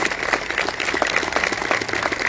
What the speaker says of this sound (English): Give Coach Metz a round of applause.